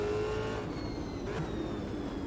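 Engine drone of a V8 race car in the Automobilista 2 racing game, a close, continuous growl with a brief rise in revs midway, heard alone.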